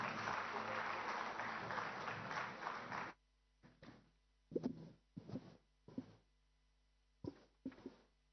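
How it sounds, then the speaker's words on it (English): An audience applauds panelists at an AI conference, with a burst of clapping for about three seconds that cuts off abruptly, followed by a few sparse, scattered claps and faint movement. "Ladies and gentlemen, a huge round of applause for our panelists."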